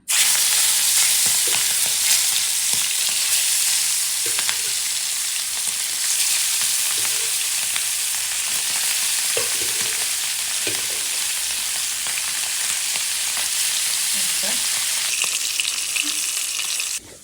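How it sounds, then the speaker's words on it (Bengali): Hilsa fish pieces frying in a pan of hot oil, a loud, dense, continuous sizzle with scattered pops and crackles, heard up close and alone, cutting off at the end. "মাছ ভাজা হয়ে গেছে মাছ ভাজার তেলটা ছিল দিয়ে দিচ্ছি"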